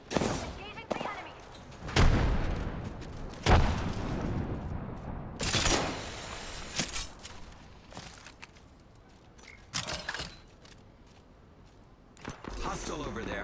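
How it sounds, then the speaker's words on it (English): Bursts of gunfire in the battle-royale shooter Apex Legends, with sharp volleys of shots scattered across the scene amid game noise, and voices talking over them. "Opening fire on the enemy."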